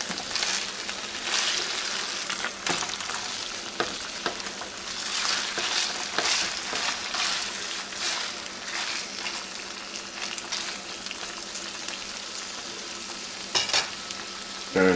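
A chicken wrap sizzles in a frying pan after being flipped, giving a loud, continuous hiss and crackle close by, with scattered pops and brief scraping knocks.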